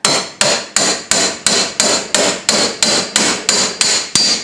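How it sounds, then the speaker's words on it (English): A hammer strikes hard about a dozen times in a steady rhythm, each blow a loud, ringing metallic impact with a short decay. "so now I'm going to try with a hammer."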